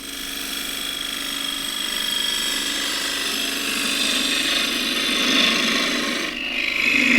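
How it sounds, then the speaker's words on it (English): Bowl gouge entering a cut on spinning wood on a lathe: a continuous, close rasping hiss that swells slightly as the cut deepens, with no speech. "Do that with a bowl gouge. Doesn't need much, just enough to ride the bevel again."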